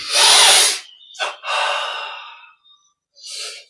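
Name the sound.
breathing in during meditation exercise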